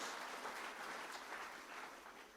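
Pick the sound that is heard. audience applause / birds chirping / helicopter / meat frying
audience applause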